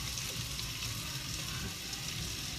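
Onions cooking down toward caramelization in a pan alongside lamb, giving a steady, soft sizzle that runs unbroken and fairly quiet throughout, with no talking.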